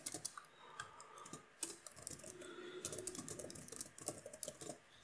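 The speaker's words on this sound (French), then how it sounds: "je peux taper un dernier texte" Rapid, continuous clatter of keys on a computer keyboard as text is typed, close and steady with brief pauses, and no speech over it.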